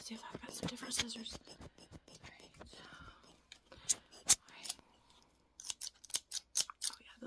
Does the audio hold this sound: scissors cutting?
yes